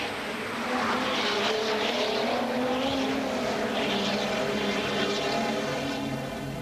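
Renault production cars roar off the start of a 1986 Monaco street race, a dense, sustained wall of many engines revving hard at close range, loud and continuous without voices.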